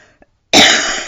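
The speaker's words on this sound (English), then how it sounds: "It's more like an allergy cough" A single sharp allergy cough bursts out after a brief near-silence, loud and close, trailing into a raspy exhale.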